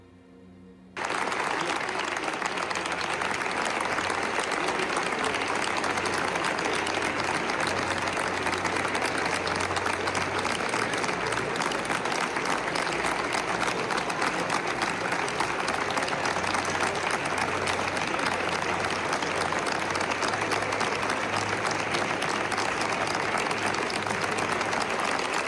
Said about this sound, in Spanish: Con una ola de aplausos, como siempre era recibida la diva del cine mexicano, Silvia Pinal